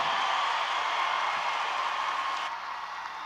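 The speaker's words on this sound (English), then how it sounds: "Give a big round of applause for the class of 2024." A graduating class of 2024 is applauded at a school commencement ceremony; steady, dense clapping fills the whole clip and fades slightly toward the end, with no voices over it.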